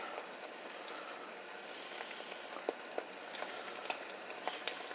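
Eggs frying in a pan give off a quiet, steady sizzle, broken by a few sharp pops and crackles of hot grease.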